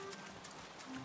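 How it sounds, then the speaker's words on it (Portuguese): Rain falls steadily in a cartoon while characters run through the downpour, a quiet, even patter with light running steps mixed in. "Então eles correram na chuva para chegar ao paciente."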